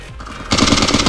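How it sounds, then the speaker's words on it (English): Rapid automatic gunfire in the video game Ace of Spades bursts in loud and close halfway through, a dense continuous rattle of shots replacing quieter background ambience. "someone's shooting at me"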